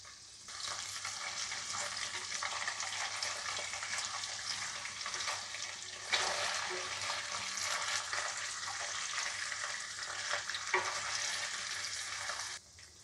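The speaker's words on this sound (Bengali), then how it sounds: "এক মিনিটের মতো পনিরের টুকরোগুলো ভেজে নেব।" Paneer pieces fry in a pan with a loud, continuous sizzle lasting several seconds, surging briefly when the pieces are stirred, then cutting off near the end.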